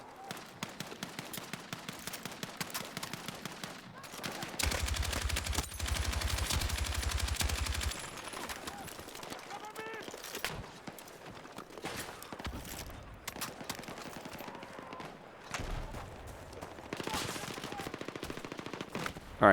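Sustained automatic suppressing fire in Battlefield 6 Breakthrough Defense, long loud bursts of rapid gunshots with short gaps, some shots sounding more distant, a brief reload and footsteps in between.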